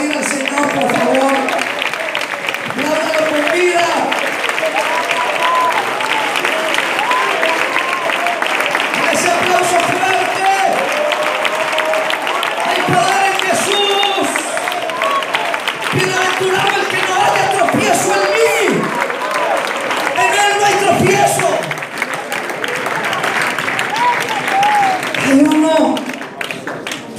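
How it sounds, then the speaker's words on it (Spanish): A church congregation applauds steadily and loudly for the whole stretch, with cheers and voices mixed into the dense clapping. "Usted quiere aplaudir al Señor, por favor"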